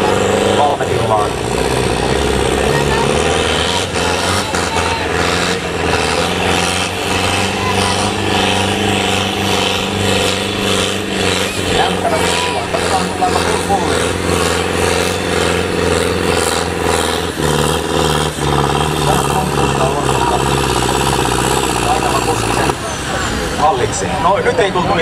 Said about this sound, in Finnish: Jouni Kirttiniemi ottaa siellä kierroksia.